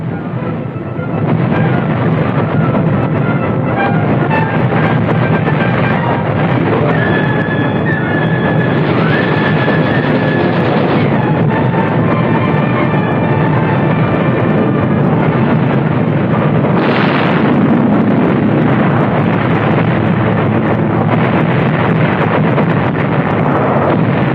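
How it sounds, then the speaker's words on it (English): Air Force and Navy warplanes bomb ahead of advancing troops during the 1945 Battle of Manila, a loud, continuous rumbling roar with heavier bursts swelling through it, heard on archival wartime film audio. "Out ahead of us, Air Force and Navy planes were softening up the way."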